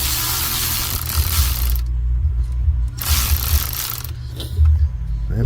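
A hand ratchet works loose the last bolt on a truck's fan clutch, giving steady clicking bursts with brief pauses in between, loud and close over a constant low engine-bay hum.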